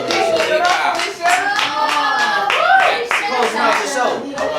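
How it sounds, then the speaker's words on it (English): An audience at a live performance show claps hands together in a dense, sustained round of applause with cheering voices mixed in throughout. "Keep on clapping them hands, keep on clapping them hands for Felicia"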